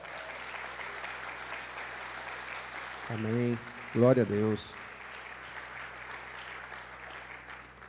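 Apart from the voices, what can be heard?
congregation applause in church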